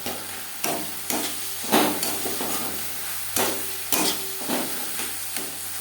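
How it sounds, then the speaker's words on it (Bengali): A spoon repeatedly scrapes and stirs tomato with turmeric and spices in a sizzling pan while cooking satting fish curry, with rhythmic knocks about every half second over a steady low frying hiss. "আর লাগছে পরিমাণ মতো হলুদের গুঁড়ো মশলার সাথে টমেটো ম্যাশ করে দেবো"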